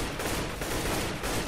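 Steady rapid automatic fire from an AK rifle in Minecraft's Mine Strike mode, a dense continuous burst of close, loud shots running unbroken for about a second and a half.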